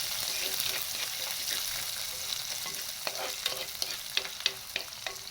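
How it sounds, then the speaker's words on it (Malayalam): Shallots fry and sizzle in oil in a pan for a fish curry while a spoon stirs them, a soft steady hiss with quiet scraping clicks that grow more frequent toward the end. "നന്നായിട്ട് ഇളക്കി കൊടുക്കുക."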